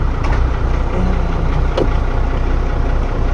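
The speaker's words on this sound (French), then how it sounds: "maintenant on démarre le tracteur. Ça tourne comme une horloge" A farm tractor engine running at a steady idle, loud and close, with a constant low drone throughout and no talking.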